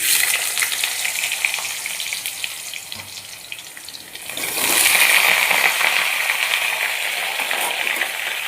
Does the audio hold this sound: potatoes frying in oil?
yes